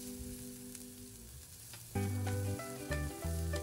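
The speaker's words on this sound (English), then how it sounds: "Saute the garlic. Stir. Add in the chopped onions." Garlic and chopped onions sauté in cooking oil in a pan, a soft steady sizzle with light stirring, joined partway through by loud tonal music that largely masks it.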